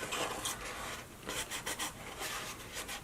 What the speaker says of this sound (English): Apply pressure to all the tabs, just rubbing them lightly.